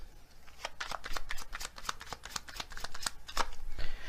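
A deck of oracle cards shuffled by hand, a run of quick papery riffles and slaps in an irregular rhythm, close and fairly soft, with no talking.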